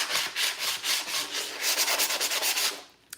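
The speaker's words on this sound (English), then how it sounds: "So you're going to take your handy dandy sanding sponge. It's about 220 grit." A 220 grit sanding sponge rubs back and forth across the bottom of an old wooden drawer, with rapid rhythmic scratchy strokes, close and clear with no talking.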